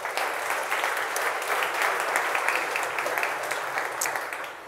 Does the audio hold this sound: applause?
yes